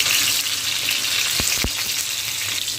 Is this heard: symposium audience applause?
no